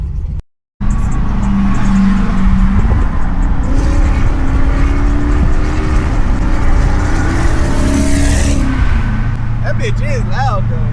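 A Chrysler 300 with an engine swap drives under heavy throttle. The loud engine roars steadily close up with rising and falling revs, and brief tire chirps and squeals sound near the end.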